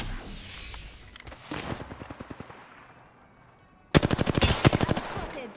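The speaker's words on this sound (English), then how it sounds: "I'm spotted, taking fire." Automatic weapon fire from the video game Apex Legends: a softer rapid burst of shots, then a louder, close, sharply rhythmic volley near the end, with no talking.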